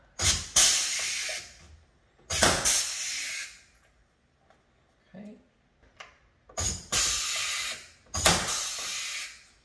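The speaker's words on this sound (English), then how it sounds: "So now we can go ahead and use our rivet gun." An air riveter sets rivets on a 6th generation Camaro front canard, giving sharp hissing pneumatic bursts in two pairs separated by quieter gaps, with a few soft knocks in between.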